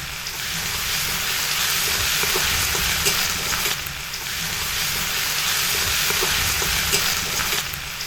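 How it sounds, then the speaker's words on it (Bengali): Onion and garlic paste with green chilli paste fries steadily in a pan, a dense continuous sizzle running loud and unbroken throughout. "পেঁয়াজ রসুন একসাথে খুব ভালোভাবে কষিয়ে নিচ্ছি"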